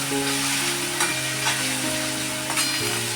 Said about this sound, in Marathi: आता कांदा आणि टॅमॅटो चांगलं परतून घेते